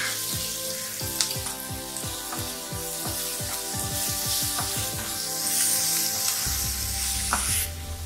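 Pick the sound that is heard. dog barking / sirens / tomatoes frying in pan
tomatoes frying in pan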